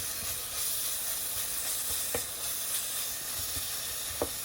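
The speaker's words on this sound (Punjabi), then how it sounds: "ਆਪਾਂ ਨੇ ਅਦਰਕ ਲਸਣ ਦਾ ਪੇਸਟ ਜੋ ਤਿਆਰ ਕੀਤਾ ਸੀ ਉਹ ਪਾ ਦੇਵਾਂਗੇ ਇਹਨੂੰ ਵਿਚਾਲੇ ਵਿਚਾਲੇ ਜੇ ਥੋੜਾ ਜਿਹਾ ਵਿਚਕਾਰ ਦੀ ਭੁੰਨ ਲੈਣਾ ਆ" Ginger garlic paste roasting in a pan gives a continuous close sizzle with steady hiss, broken by a couple of faint stirring clicks.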